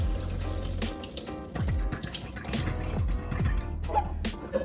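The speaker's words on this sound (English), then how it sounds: "And drain them just like that." Water from a pot of boiled potatoes pours and splashes steadily into a kitchen sink, a continuous close rushing gush with a few gurgles throughout.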